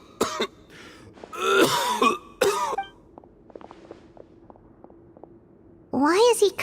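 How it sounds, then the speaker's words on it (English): A male character in a fantasy video game cutscene coughs and clears his throat in harsh, repeated fits, with a quieter stretch of soft footsteps or shuffling between the bursts and a final rasping cough near the end. "Why is he coughing so much?"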